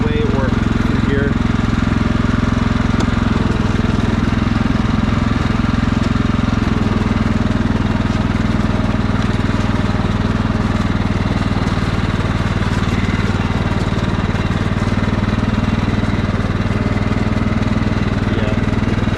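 A Craftsman riding lawn mower churns through mud, its engine roaring loud and close without a break, labouring steadily throughout.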